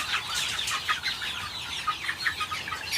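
Several chickens clucking close by in a quick, busy chatter at night by a chick brooder, with no talking.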